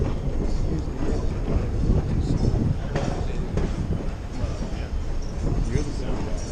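Roaring Camp train heading out toward Santa Cruz, heard from on board as a constant low rumble of rolling cars and wind noise, with a voice speaking faintly beneath it.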